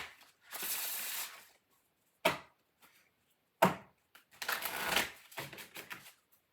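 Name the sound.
shuffling spellcasting oracle cards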